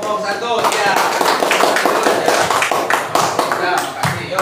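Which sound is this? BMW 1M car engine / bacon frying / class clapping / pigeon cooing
class clapping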